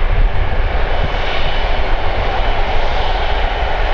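An Air Transat Airbus A330-200 at Calgary Airport roars with a loud, continuous jet engine rumble and broad whooshing hiss, steady and close throughout, with no voices.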